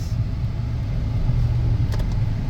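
A 2007 Hyundai Elantra on a test drive, its engine and road noise forming a steady low rumble from inside the cabin, even and unbroken, with a faint brief rattle near the end.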